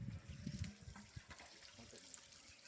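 Water is poured during a Shiva temple ritual, splashing and trickling in short, uneven bursts that are fairly quiet, close and fade toward the end.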